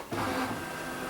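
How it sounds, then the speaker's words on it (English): A quilting machine's camera scanning fabric with a steady mechanical whir and hum, rising sharply at the start and then holding an even drone with a faint tonal whine. "it's going to start scanning the fabric"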